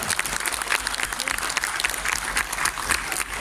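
Lively crowd applause for the festival committee at an outdoor village festival concert in Castelões, Famalicão, with crisp, dense clapping throughout and a murmur of voices mixed in.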